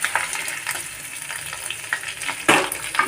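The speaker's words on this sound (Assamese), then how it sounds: "অকণমান ভাজি লৈছোঁ।" Finely chopped garlic and ginger frying in hot oil, a close crackling sizzle with bursts of spattering and the scrape of stirring, no voices.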